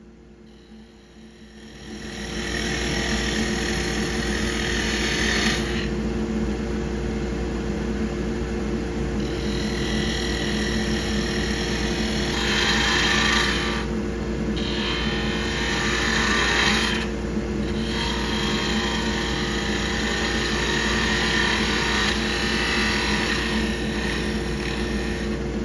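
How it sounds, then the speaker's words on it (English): Wood lathe running steadily while a skew chisel makes a planing cut along a small tool handle, giving a constant motor hum with a brighter hiss of shaving that rises and fades in stretches. "now I'm using a planing cut to try to cut down to that"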